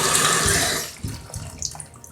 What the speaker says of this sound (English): so I just fill it up with water